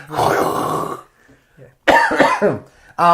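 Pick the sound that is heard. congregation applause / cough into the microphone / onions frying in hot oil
cough into the microphone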